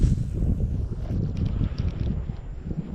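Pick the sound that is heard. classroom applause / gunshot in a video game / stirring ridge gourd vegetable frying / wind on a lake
wind on a lake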